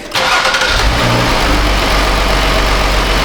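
A car engine, just back from a short drive, settles into a steady idle after starting up, producing a loud continuous low rumble with no talking over it.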